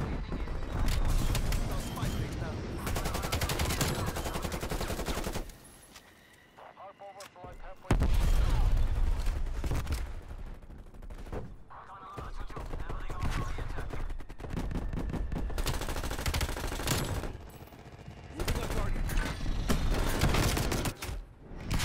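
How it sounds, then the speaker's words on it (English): An aircraft makes a strafing run with loud, sustained bursts of rapid gunfire. The bursts are dense and roaring, and short breaks and a brief lull around 6–8 s separate them. A voice talks over the firing throughout. "Strafe run, you are clear to engage."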